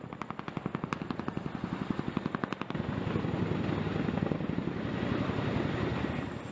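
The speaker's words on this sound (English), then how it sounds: "a helicopter such as the CH-47 flies at about 10 feet altitude and under 10 knots" A CH-47 Chinook helicopter flying low over water, its rotor thumping in a fast, steady beat at first, then giving way to a broad, continuous roar of rotor wash and engine noise, fairly loud and close.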